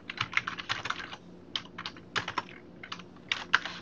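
Rapid keystrokes on a computer keyboard, fast irregular bursts of clicking with short pauses between runs, close and fairly quiet, with no talking over them.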